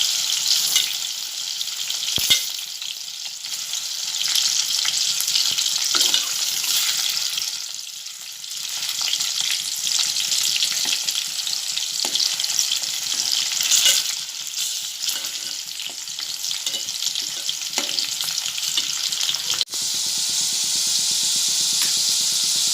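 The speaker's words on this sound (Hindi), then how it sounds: "बटाटे मैं मीडियम आंच पर तल कर लूँगी" Potatoes frying in oil over a medium flame, a continuous loud close sizzle with a steady bright hiss throughout, small crackles and brief stirring scrapes, no voices.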